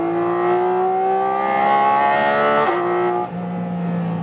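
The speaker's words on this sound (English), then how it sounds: "I love the naturally aspirated engine." A Porsche 718 Cayman GT4 RS naturally aspirated engine on a racetrack gives a loud, sustained, close harmonic engine note with no talk; the pitch shifts near the middle, then briefly eases and drops toward the end.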